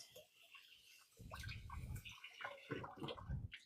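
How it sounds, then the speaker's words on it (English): Tap water running through rice in a fine mesh colander, a faint, irregular splashing and trickling that swells in uneven bursts. "You just put it in like a mesh sleeve or really fine colander, and you can just run your water through it."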